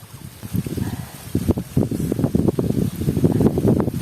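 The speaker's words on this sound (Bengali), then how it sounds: "আপনারা জাস্ট বাতাসের সাউন্ডটা একটু শুনেন।" Outdoor wind gusts buffet the microphone at an open-air hillside meal spot, rumbling in uneven surges and swells that stay loud and close throughout, with no talking.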